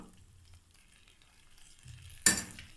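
Mint rice masala sautés in hot oil: a quiet low simmer for a couple of seconds, then a sudden loud burst of sizzling near the end that tails off.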